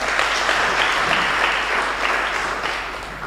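A church congregation at a Kikuyu service claps together in a dense, steady round of applause, loud and close, fading slightly toward the end.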